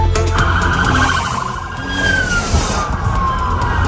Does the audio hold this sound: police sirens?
yes